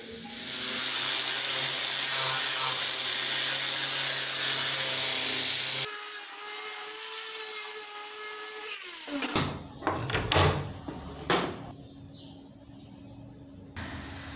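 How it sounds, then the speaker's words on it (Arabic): An angle grinder sands hard, dry olive wood for an epoxy table, giving a steady, loud, hissing abrasive whine that shifts in pitch midway, then stops and leaves scattered clunks and rubbing noises. "وطبعا لأن خشب الزيتون خشب صلب وناشف جدا، الصنفرة هتكون بالصاروخ"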